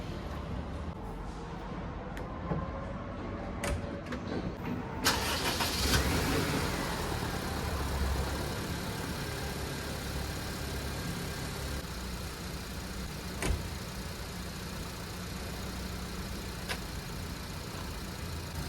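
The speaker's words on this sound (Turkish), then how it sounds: "Şimdi motoru bir çalıştırayım bakalım." A car engine, treated with an engine-cleaner additive and still cold, cranks and catches, then settles into a steady, fairly loud idle that runs on evenly with a couple of small mechanical clicks.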